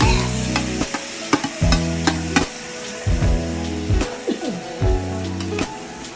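Cabbage stir-fried with bihon rice noodles in a home kitchen pan, loud steady sizzling with repeated scraping stirs in uneven bursts, no talking.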